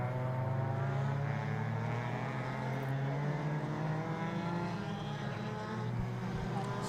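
Racing cars circle a circuit with a sustained, droning engine roar from several machines at once, steady and fairly distant, with pitch shifting slightly as they pass.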